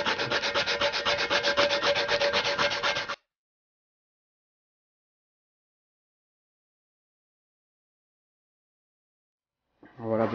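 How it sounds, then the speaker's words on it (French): Sandpaper rubbed by thumb inside the welds of a metal exhaust pipe during polishing gives a close, steady rasping scrub for about three seconds, then silence, with a brief return of rubbing at the very end. "on prend le bout le plus fin et on gratte avec son pouce à l'intérieur des"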